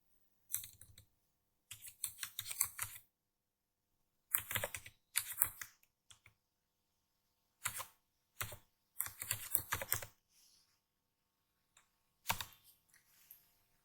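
Typing on a computer keyboard: quiet, close clicky keystrokes in quick clusters, separated by short silent pauses, with no voices.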